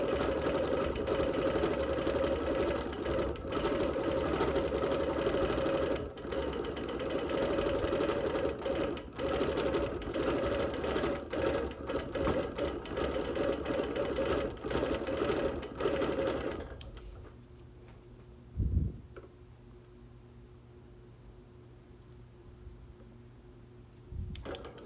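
A sewing machine quilts on wool in a long, steady mechanical run that stops abruptly, followed by a quiet stretch with a brief thump.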